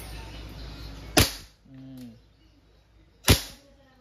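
KWC Airsoft 75 competition pistol firing two sharp, close shots about two seconds apart, each a loud crisp crack with a short tail, against a quiet room with faint background noise and a brief low hum between shots.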